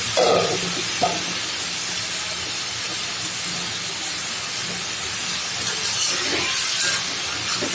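Boiled taro pieces dropped into a pan of sautéed prawns, setting off a loud hissing sizzle with a couple of brief clatters near the start, continuing steadily and close without talk.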